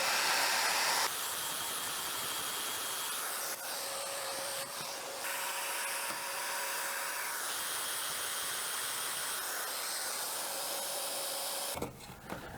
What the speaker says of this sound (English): I'm gonna recut these joints with an 8mm cutter